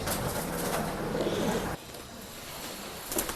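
Pigeons coo in a pet shop in Bangalore, soft low cooing under a dense, noisy room hum that drops abruptly midway, with faint bird calls continuing.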